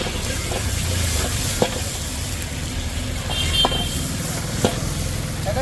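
Manchurian dry stir-fried in a pan at a Chinese food stall in a market, with a steady, close sizzle and scraping stirs, a few sharp spatula knocks against the pan.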